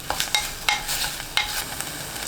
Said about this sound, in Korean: 소주 2큰술, 다진 마늘 2분의 1큰술 넣고 30초 볶습니다